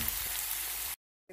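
Onion fries in a pan with coriander, cumin and spice powders for a hilsa mustard dish, a steady soft sizzle for just under a second that cuts off abruptly into silence.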